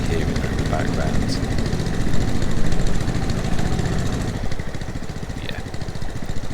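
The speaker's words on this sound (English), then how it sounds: "I'll get switch the engine on, because I'll be hearing it in the background" A tractor engine in Farming Simulator 22 idles and chugs steadily with a mid-pitched drone, lifting briefly partway through, while a person talks over it.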